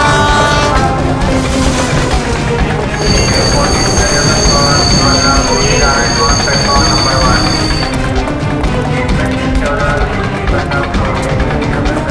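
A train rumbles loudly and continuously at a station, with a long high whistle-like tone in the middle, while voices talk throughout.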